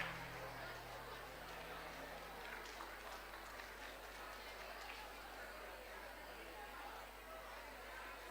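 Applause and crowd chatter for the executive board at a model UN closing ceremony, a steady broadband wash of clapping and hubbub from a large audience, sustained evenly at moderate distance throughout.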